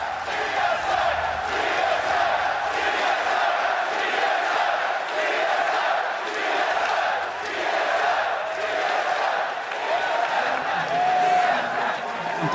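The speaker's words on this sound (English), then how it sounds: "Sometimes you have to take a step back and appreciate the crowd." A large crowd in an esports arena at the League of Legends Worlds group stage roars and chants in a loud, sustained, rising and falling wave, with commentators' voices faintly under it.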